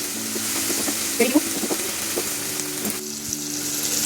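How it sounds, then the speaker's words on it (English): Onion sautéing in mustard oil with salt for Karnataka-style chicken biryani, a steady close sizzle with a few stirring scrapes and clatters partway through. "So now I am sauteing the onion in the mustard oil"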